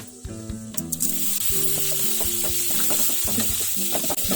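Sambar powder and salt are stirred into sambar cooking in a pot, giving a continuous close sizzle with repeated scraping strokes of a spoon throughout, and no voices.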